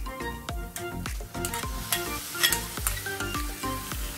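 Tomatoes sautéing in a pan with onion for an Indian vegetarian dish, giving a steady close sizzle with repeated scraping stirs at an uneven rhythm, and no talking.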